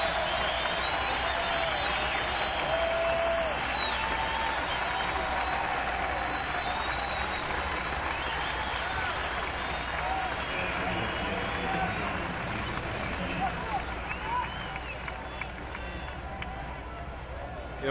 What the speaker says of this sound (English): they're going to give him a nice ovation